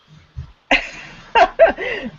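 A few short, sharp coughs from a person with a summer cold, close to the microphone, one after another, followed by a breathy throat-clearing sound.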